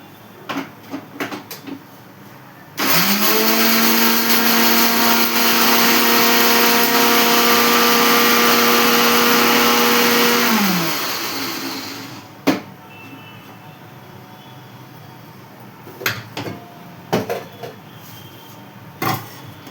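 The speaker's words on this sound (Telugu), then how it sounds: "ఇక మిక్సీ అయితే పడతాను ఫ్రెండ్స్." A mixer grinder (mixie) in a home kitchen starts abruptly and runs as a loud, steady motor whine for about eight seconds, then winds down. Faint clatters and knocks occur before and after.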